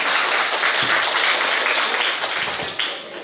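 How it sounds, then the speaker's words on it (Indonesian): A hall audience at a teacher training event breaks into loud, dense applause, many hands clapping together in a steady roar that eases slightly toward the end. "Boleh tepuk tangan untuk kita semua?"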